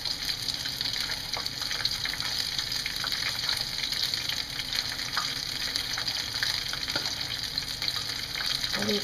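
Onion rings deep frying in hot oil, a steady dense sizzle with continuous bubbling crackle, fairly quiet and unbroken throughout with no talking.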